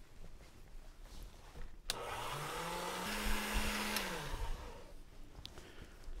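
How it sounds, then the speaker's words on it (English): A sheet of fondant is fed through a pasta machine, giving a few seconds of whirring, grinding mechanical noise that starts abruptly, rises and falls in pitch, then stops, with quiet room sound before and after. "I'm just gonna put this through the pasta machine."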